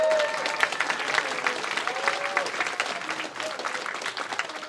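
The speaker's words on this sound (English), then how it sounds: "Give them a round of applause already." Audience applause fills a convention opening ceremony as volunteers and organisers walk on stage, steady dense clapping from a large crowd lasting throughout with scattered cheers mixed in.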